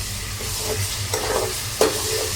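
Chicken pieces are dropped into a pan with onion, tomato, garlic and ginger paste and fry in a soft steady sizzle, with a few stirring scrapes and one sharper clatter near the end, and no voices.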